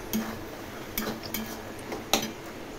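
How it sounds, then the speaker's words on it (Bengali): A spoon stirs kochu shak with hilsa head in a metal pot, giving a few sparse, close scraping clinks against the pot over a quiet background. "এখন বারবার করে নেড়ে দিতে হবে।"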